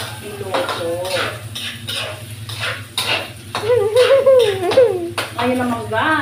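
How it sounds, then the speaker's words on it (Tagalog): Longganisa sausage sautéed in a pan at home, with metal utensils clanking and scraping against the cookware under a soft sizzle, while someone talks over the cooking and a voice briefly joins. "igigisa ko na ang longganisa"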